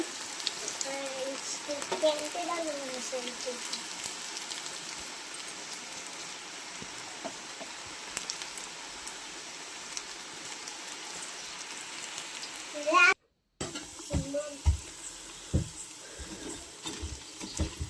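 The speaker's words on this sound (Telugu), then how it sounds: "వేడికి నూనెలో పకోడీ వేస్తుంది." Pakoda fritters sizzle in hot oil, a steady fine crackling hiss that holds for the whole stretch, moderately close, with a brief clatter and a short gap near the end.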